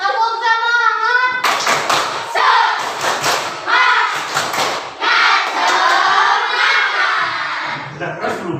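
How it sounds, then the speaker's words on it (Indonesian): A school class performs a rhythmic spirit clap, sharp bursts of many hands striking together in patterned groups with chanted voices between them, following a teacher's spoken lead. "Tepuk semangat."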